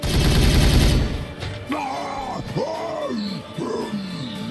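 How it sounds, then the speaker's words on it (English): Gunfire from the Warhammer 40K Regicide video game, a dense loud burst of shots for about a second, followed by voiced groaning or alien vocal sounds with no clear further shots. "Firing on target! Open fire!"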